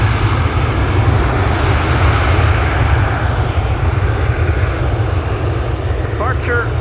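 Aircraft at Amsterdam Schiphol Airport near the northern threshold of runway 18 Left, a loud steady engine roar filling the whole clip, with a brief voice near the end.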